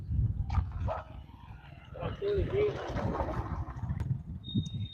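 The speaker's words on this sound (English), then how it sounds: "The dogs ain't gonna do nothing" Dogs bark and yip in short irregular bursts on a street in Kenya or Ivory Coast, mixed with a whimper, while people talk nearby over the barking.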